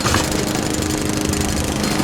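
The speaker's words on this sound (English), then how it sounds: "He turns on a lawnmower and gets ready to push Dan's face towards the spinning blades." A running lawnmower roars at full throttle, a loud, steady rumbling engine drone with a gritty rattle that carries on without a break.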